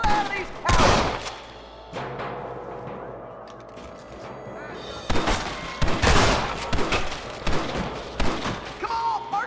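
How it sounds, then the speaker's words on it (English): Gunfire shootout in Red Dead Redemption, a Western game, with a Winchester rifle among the guns: bursts of shots crack out in clusters, heaviest early and again in the second half, mixed with thuds and game sounds while voices talk. "Let's shoot the hell out of these cowards."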